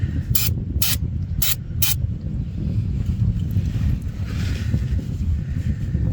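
Four short hissing spray bursts of brake cleaner in quick succession under a vehicle, then a low windy rumble continues underneath.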